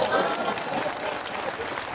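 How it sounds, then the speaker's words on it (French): A crowd at a political gathering claps in a steady, dense wash of applause with a continuous rustling texture, moderately distant and sustained throughout. "Mais je croyais que vous allez applaudir pour nous"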